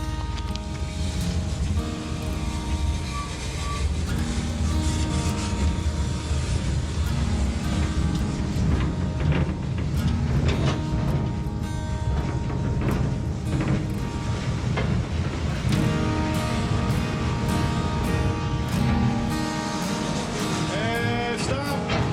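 An H.K. Porter 1715 steam locomotive chugs and hisses along the track in a dense, continuous clatter of mechanical rumbling and rhythmic puffing, loud and close throughout.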